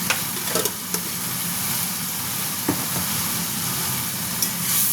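Turmeric, coriander and cumin powder frying in a pan: steady soft sizzle and hiss with a few faint clicks of stirring, close and continuous without talk.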